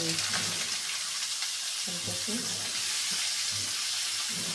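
Vegetables go into hot oil with dry chili, garlic and cumin, giving a continuous close sizzle with a few stirring knocks, while a voice talks faintly underneath.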